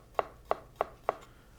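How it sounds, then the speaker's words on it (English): A knife finely julienning food on a cutting board, four crisp, evenly spaced chops in quick succession, close and distinct against a quiet background. "I'm just going to julienne it very, very fine"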